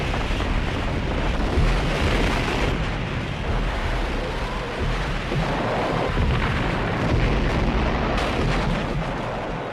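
Soviet multiple rocket launchers (Katyusha) fire during the 1942 Battle of Stalingrad, a dense, continuous roaring barrage of overlapping blasts and rumble that holds loud for the whole stretch, with no voices.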